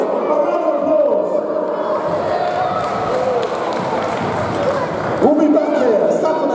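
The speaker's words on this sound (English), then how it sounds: "Give yourselves a round of applause." Wrestling show audience at UKPW Rampage 2015 applauding and cheering, a loud, steady wash of clapping and crowd noise throughout, with a voice over it.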